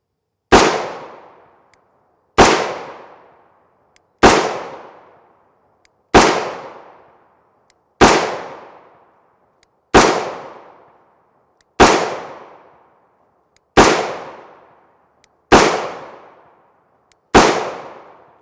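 Ten evenly spaced sharp rifle shots from a 10.5 inch short-barreled rifle firing 5.56x45mm M855 ammunition, each loud crack followed by a decaying echo, about two seconds apart with silence between.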